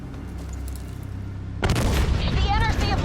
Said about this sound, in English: Launched a missile barrage.